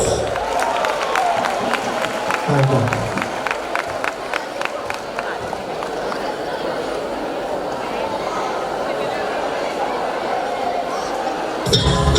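An audience at a school Entroido carnival show claps for a second-year bachillerato class, scattered crisp claps over a busy crowd murmur with voices throughout, then a burst at the end.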